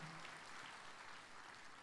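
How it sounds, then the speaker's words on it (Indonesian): Sustained applause from an audience at a comedy show, very faint and distant, a steady wash of many hands clapping with no voices on top. "Silakan tepuk tangan buat ibu-ibu dan wanita yang hadir siang hari ini."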